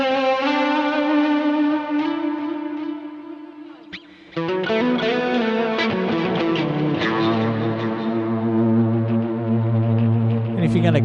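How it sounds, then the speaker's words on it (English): An electric guitar plays through a DigiTech RP1000 multi-effects preset with heavy reverb and ping-pong delay. Sustained, distorted chords ring out and fade, and after a brief gap a new chord swells with long, echoing tails. "It's got reverb and a ping pong delay"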